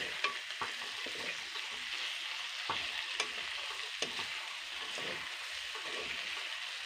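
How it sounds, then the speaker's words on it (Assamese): Bitter gourd, potato and pointed gourd frying together in a pan make a soft, fairly quiet sizzle, with scattered light taps and scrapes of stirring. "আৰু এয়া হৈছে গাইজ ভাতকেৰেলা, আলু আৰু পটল, তিনিটা বস্তু একেলগে মিক্স কৰি কেনে ভাজি কৰি আছোঁ।"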